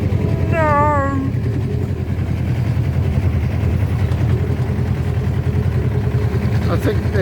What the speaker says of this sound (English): I think this engine runs on diesel.